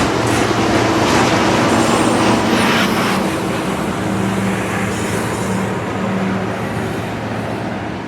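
A CSX freight train rumbles past close by, a steady loud roar of rolling wagons with faint squeals and clanks throughout.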